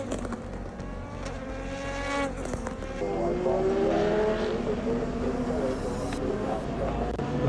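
ELMS LMP2 prototype race cars passing on track at Imola, engines droning and rising in pitch as they go by, fairly loud and continuous, with crowd or ambient noise underneath.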